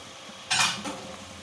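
Ginger-garlic paste drops into a hot pan for katla fish kalia, giving a sudden bright sizzle that flares for a moment and quickly fades, followed by faint clinks of a spoon against the pan.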